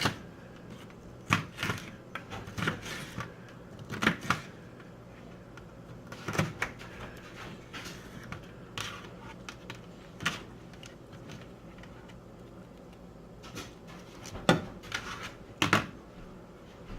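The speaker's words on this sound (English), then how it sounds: "we're gonna cut up the green peppers" A knife chops green pepper on a cutting board in scattered, fairly faint knocks and taps at irregular intervals. The background stays quiet, and no one speaks.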